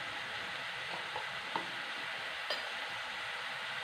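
Turmeric, chili and coriander powder frying in a pan, a soft continuous sizzle with a few light scrapes of stirring, close and even.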